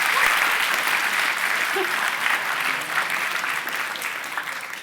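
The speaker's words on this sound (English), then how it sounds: "Can you give Andy a big round of applause for helping me with that demo?" An audience bursts into loud, sustained applause for a helper after a particle accelerator demo, a dense wash of clapping that slowly tapers, with a brief voice near the start.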